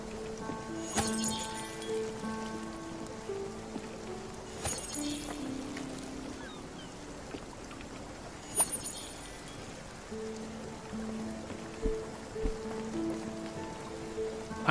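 Steady rain falls in the video game Spiritfarer, a soft continuous patter under musical tones and a few brief clinking accents, with no talking.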